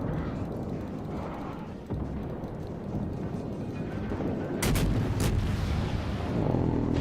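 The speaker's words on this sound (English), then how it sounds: "Fire any of the guns" Heavy naval cannons boom repeatedly aboard a burning ship in a video game, a dense, rumbling barrage of loud blasts with sharp cracks near the end and no talking.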